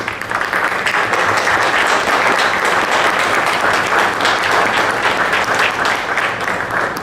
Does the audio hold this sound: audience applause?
yes